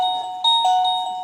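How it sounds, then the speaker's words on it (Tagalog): A wireless plug-in doorbell chimes a bright electronic two-tone ding-dong, clear and close, with notes ringing out and fading over about a second. "wireless doorbell po ito"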